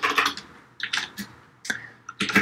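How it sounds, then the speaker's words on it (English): Typing on a computer keyboard while entering Arduino code: short bursts of quick, crisp keystroke clicks, close and clear, separated by brief pauses. "I'm going to type in LED pin."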